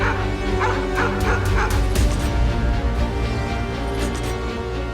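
Several dogs bark and yip close by in rapid overlapping bursts, with whimpering tones between the barks and a strong, continuous presence throughout.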